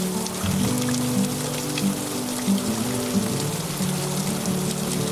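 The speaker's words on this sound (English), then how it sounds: "Only for the skies to open up in a heavy downpour." Heavy rain pours down in a sudden downpour over an outdoor painting session, a dense, steady hiss of drops drumming on surfaces, close and continuous throughout with no voices.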